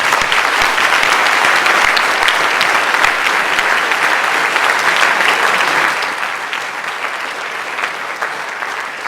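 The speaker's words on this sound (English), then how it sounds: "If we can give these great seniors a round of applause" A high school audience at a scholarship awards night gives graduating seniors a loud round of applause: dense, sustained clapping that fills the room, easing slightly toward the end.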